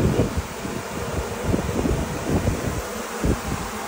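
A queenless honeybee colony in a spring-split hive gives off a continuous, close buzzing drone with a faint wavering texture, heard alone without talk.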